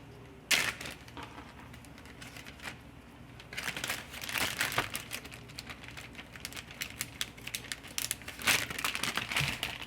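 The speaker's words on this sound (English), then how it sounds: "I'm gonna get my Ziploc bag real fast." A plastic Ziploc bag crinkles and rustles in the kitchen, a sharp crackle early on, then scattered close crinkling bursts of varying loudness.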